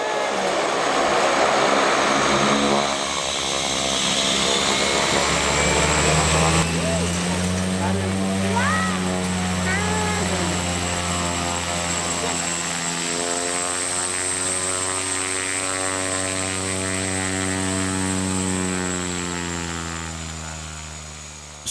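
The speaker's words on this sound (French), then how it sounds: "monomoteur va enfin tenter de se poser sur la minuscule piste de terre de l'altiport de Jufa" A single-engine propeller plane lands on a tiny dirt airstrip at a mountain altiport in Dolpo. Its loud, close droning engine shifts in pitch, then drops to a lower, steady hum that fades near the end. A voice speaks during the approach.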